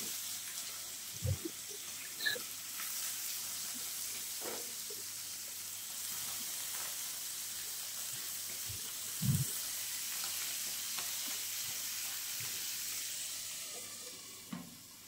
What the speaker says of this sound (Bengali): তারপর এখানে হবে এবার আরো কিছু মাছ ভাজা।